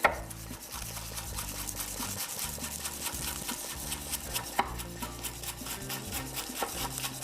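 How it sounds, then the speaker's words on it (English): A knife chops green onions at an angle on a cutting board, making a steady run of quick, close tapping cuts that continue throughout. "we'll go ahead and cut up a little bit of green onions"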